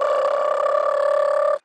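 A person hums a single sustained, steady buzzing tone, imitating a toad's mating trill, held for over a second before stopping abruptly.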